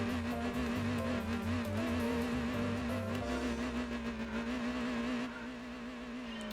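A Peugeot 206cc engine in Gran Turismo 4 holds a steady droning hum with slight wavering revs, moderately loud and continuous, the low rumble thinning out near the end.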